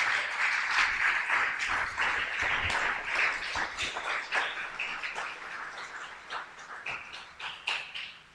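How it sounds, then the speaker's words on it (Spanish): A church congregation claps together in a dense, lively burst of applause that carries on for several seconds, then thins and fades toward the end. "Dele un aplauso al Señor."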